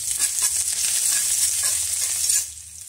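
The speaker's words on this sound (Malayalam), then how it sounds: "കൂട്ടത്തിൽ തന്നെ ഞാൻ കുറച്ച് കറിവേപ്പില കൂടെ ചേർത്ത് കൊടുക്കുവാണ്." Curry leaves go into hot oil with frying garlic, ginger and chillies, raising a bright, dense sizzle and crackle with some stirring, close and steady, then easing off near the end.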